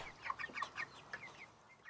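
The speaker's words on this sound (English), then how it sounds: "We have our 6 original hens, as well as 10 meat chickens, some turkeys, ducks, and some heritage breeds as well." Hens and chickens cluck in a quick, uneven run of short calls inside a homestead coop, fairly faint and close with no talking.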